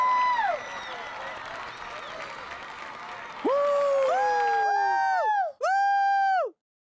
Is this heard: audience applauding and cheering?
yes